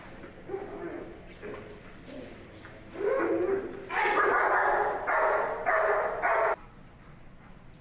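A dog barks at a helper during protection training on a sport-dog working field, a run of sharp, loud barks and yips that grows more insistent midway, with someone talking quietly beneath it.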